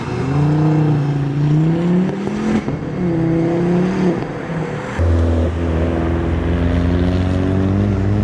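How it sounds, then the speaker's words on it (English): Modified cars, including ST owners' club cars, driving away from the Spring Action Day at Castle Combe circuit, with loud, steady engine drones that shift pitch as one car passes and the next pulls close. "That was it from cars leaving Spring Action Day over at Castlecombe"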